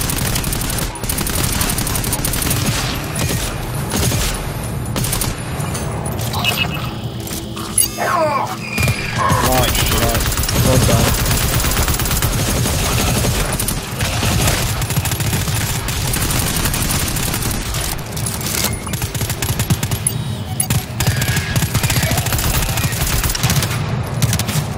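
Sustained gunfire and mechanical clatter fill a video game firefight in the Fog PVE mode of Power Hungry, running steadily for the whole stretch while voices talk underneath.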